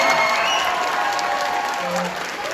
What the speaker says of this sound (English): give yourselves a round of applause for an amazing show